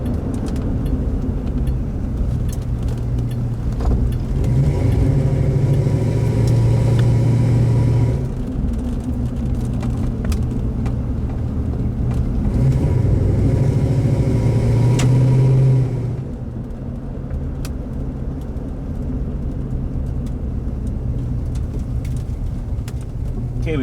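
A 1971 Dodge Coronet accelerating through a residential neighborhood, its engine swelling twice into a loud, rising rumble heard from inside the car, easing back between surges, with faint birds in the background.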